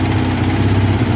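Kawasaki ZL600 motorcycle engine idling on choke, a steady, loud low rumble with even pulsing throughout, close by and with no voices.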